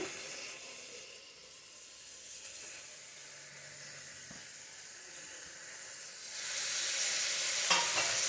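Drumstick flowers fry in hot oil in a pan, a continuous soft sizzle and hiss that grows louder and brighter near the end, heard close without talk.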